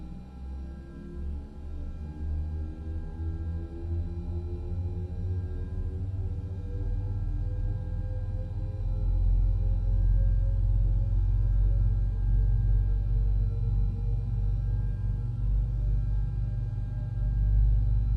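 An Airbus airliner's jet engine spools up from a start, a steady low rumble thickening as rising whining tones climb in pitch over about eighteen seconds, loud and continuous in the cockpit.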